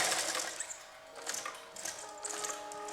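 A sewing machine runs steadily as it stitches a curved seam around the top of a kurti collar, a close, even mechanical whir with light rhythmic clatter.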